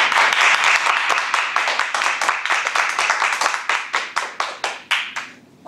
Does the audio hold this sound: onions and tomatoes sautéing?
no